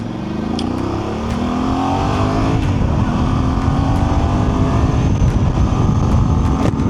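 Voge DS800X Rally adventure motorcycle with a 21-inch front wheel pulling away in first gear, its engine note rising steadily and staying loud and close throughout, with no talk over it.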